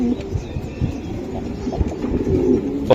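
Racing pigeons at a pigeon farm coo in soft, low, repeated throaty calls, close and overlapping, with light shuffling noise around them.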